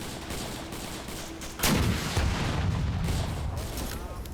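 Gunfire during a squad operation in a military video game: a sharp loud shot opens a sustained rumble of firing and booms, with voices talking over the battle.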